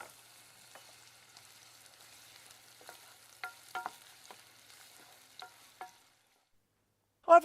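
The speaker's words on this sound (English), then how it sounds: "I've put a little oil into a saucepan and I'm going to fry the onions until they go golden" Onions frying in a little oil in a saucepan, a quiet low hiss broken by scattered light taps and clicks, ending in a brief silence and a final clatter.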